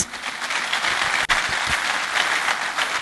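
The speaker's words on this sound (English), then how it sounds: "So give an applause for them, please." An audience at an interview skills session claps for the interview participants in a brief, steady burst of applause that stays moderately loud for the whole span.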